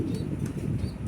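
Pigeons of various breeds flapping their wings at a pigeon farm, a steady close flutter of many wingbeats running throughout with no talk.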